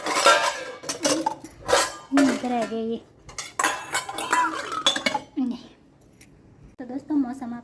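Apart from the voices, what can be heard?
dishes and utensils being carried and put away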